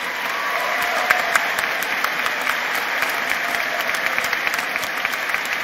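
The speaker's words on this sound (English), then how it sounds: "you deserve a healthy round of applause" Steady, sustained applause from a sizable crowd at a law school commencement fills the whole stretch, even and continuous with no talking over it.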